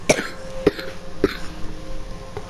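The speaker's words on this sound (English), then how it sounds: "I have a really bad cough." Someone coughs three or four times in short, sharp bursts, spaced about half a second apart, then a fainter one near the end. The coughs are close and moderately loud, set against a low hum in the background.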